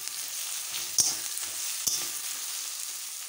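Ginger sizzles steadily in hot oil in a pan for a Bengali peas ghugni, a close, even hiss with two sharp clicks partway through and no voices.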